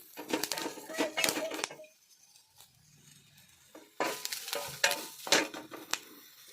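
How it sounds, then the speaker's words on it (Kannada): Curry leaves frying in hot oil in a pan, bursts of sizzling and stirring scrapes in two clusters separated by a quieter gap, close-up with no talking. "ಇದರೊಳಗೆ ಇವಾಗ ಕರಿಬೇವು ಹಾಕ್ಕೊಳ್ಳೋಣ. ಕರಿಬೇವನ್ನು ಹುರ್ಕೋಬೇಕು."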